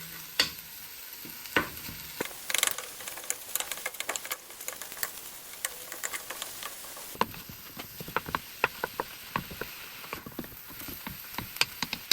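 Ground meat being broken down and stirred with the back of a wooden spoon in a hot pan for dirty macaroni, with steady sizzling under repeated scraping and tapping strokes close by.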